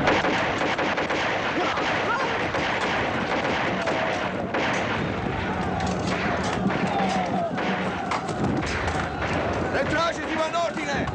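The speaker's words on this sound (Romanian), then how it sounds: "Parcă se aud împușcături în stânga." Gunfire crackles in a 1977 Romanian war film, a dense, continuous barrage of shots and blasts with voices mixed in underneath.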